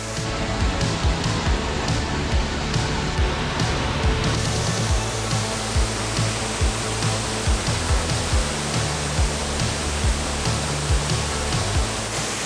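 Savage Falls waterfall in Tennessee roars steadily and close by, a dense, continuous rush of falling water with no talking over it.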